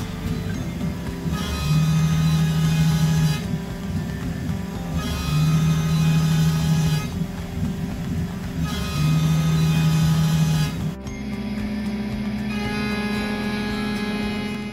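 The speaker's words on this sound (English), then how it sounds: "Right here I'm going into the adaptive clearing with an Amana high speed steel 1/4 inch 2 flute." A Shapeoko 3 CNC router doing adaptive clearing in 1-inch-thick aluminum with an Amana quarter-inch two-flute high-speed-steel end mill, a loud steady motor whine that rises and falls in repeating passes.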